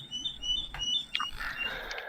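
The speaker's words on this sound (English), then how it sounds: "Bird noises." Bird sound effects play during a tabletop fantasy role-playing session, bright repeated chirps and tweets layered over a soft background ambience, moderately faint.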